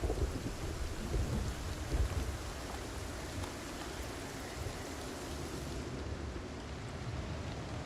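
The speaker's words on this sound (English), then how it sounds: "Thunderstorm." A thunderstorm with rain plays in the video game Project Zomboid, a dense hiss of steady rainfall under low rolling thunder that swells early on and then settles into a constant wash.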